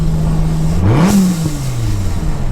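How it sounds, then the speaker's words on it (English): A supercharged 1,200 hp Dodge Viper revs in fourth gear around 40 mph, its engine note rising and falling, with a brief whooshing burst of blow-off valve release near the top of the rev over steady road and cabin noise. "that's what it sounds like once that blow-off valve releases all that pressure"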